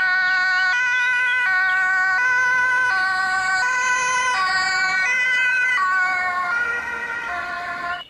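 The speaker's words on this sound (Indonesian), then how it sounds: "Yang ini mobil ambulans." An electronic ambulance siren wails in a steady repeating two-tone pattern, loud and close, like a toy playing its siren sound.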